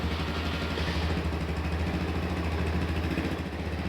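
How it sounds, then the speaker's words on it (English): A Genuine Scooters Hooligan 170 scooter engine idles steadily close by, a continuous loud buzzing hum with even low-pitched pulsing and no talk. "press and hold the electric start until the bike comes to life"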